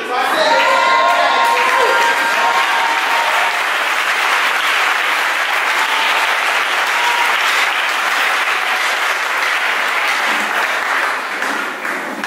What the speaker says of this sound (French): Je vais me nourrir de vos acclamations.